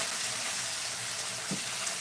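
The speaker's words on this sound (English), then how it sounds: "You see how the oil is splashing up?" Oil sizzling and splashing in a pan while sauteing, a loud, continuous broadband hiss with a soft pop near the end.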